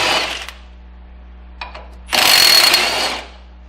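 A ratchet loosens the 15 or 18 millimeter caliper bracket bolts on a Ford disc brake. A short clatter comes first, then a faint click, then a loud, harsh second-long burst of ratcheting close by.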